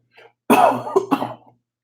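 One harsh cough, close and loud, followed by a short raspy second burst.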